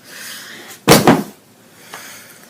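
Household objects knocked down by a cat at home, a sudden loud clattering thud with a second bump right after, then a faint knock, alone against quiet room tone.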